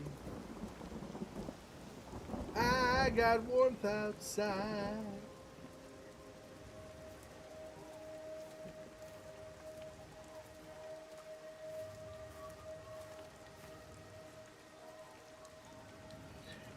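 Rain and rolling thunder in the video game Everybody's Gone to the Rapture: a loud burst early on, then a steady soft rainfall wash continuing under a faint tonal hum, with someone speaking briefly over the start.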